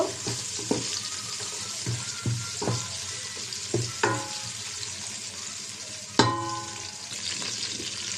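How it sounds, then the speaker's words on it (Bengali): Spice paste with cardamom, cinnamon and cloves frying in a pot for chicken khichuri, a steady sizzle broken by several sharp clatters of stirring and one louder knock, heard up close with no talk. "এখানে এলাইচ আছে দারচিনি আছে লং আছে দিয়ে দিলাম পেস্টটা এখন বেজে নেব"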